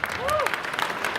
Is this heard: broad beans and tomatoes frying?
no